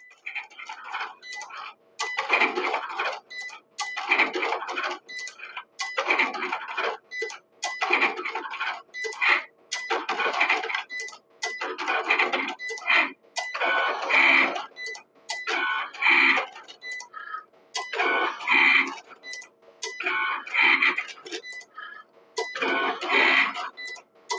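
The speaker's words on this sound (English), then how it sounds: "It cuts with a certain amount of pressure for each time it goes through." A Cricut cutting machine slicing glitter cardstock for a St. Patrick's Day pot-of-gold craft, repeated mechanical whirring and scraping passes in regular bursts with short pauses, close and steady throughout.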